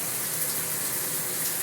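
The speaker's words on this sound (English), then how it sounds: "so the water through the diverter valves coming through here, this fitting, and traveling down and going to the other shower head." Water rushes steadily through a shower diverter valve and fitting, feeding a second head on a double shower setup, a continuous broadband hiss close by with no talking.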